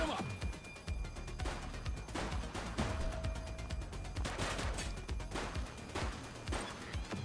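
Gunfire erupts as police officers shoot at suspects in a video game, a rapid burst of loud overlapping shots and impacts followed by scattered further cracks, with voices talking over the shooting.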